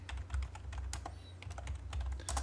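A computer keyboard being tapped during AutoCAD drafting work, with a quick run of light, close clicks and keystrokes over a low steady hum, no voices.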